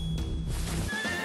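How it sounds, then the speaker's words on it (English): A horse neighs in a loud, close whinny lasting about a second, with bright shaky tones over a noisy rushing background and no talking. "Is it a horse?"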